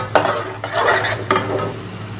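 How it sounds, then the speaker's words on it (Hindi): Whole spices roasting on low flame for achar gosht are stirred in a pot, giving three close scraping sweeps of a spoon over a soft background sizzle. "इसको हम थोड़ा सा भूनेंगे, हल्की आंच पे भूनना है"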